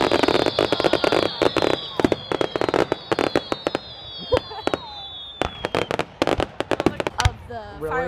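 Dense rapid crackling and popping of fireworks during a long display fills the air, bursts following one after another, with whistling rockets sliding downward and people talking and cheering faintly beneath.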